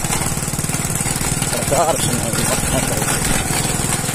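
Motorcycle engine droning steadily while being ridden on a road, with a rough, pulsing mid-range rumble that continues throughout, and someone talking over it.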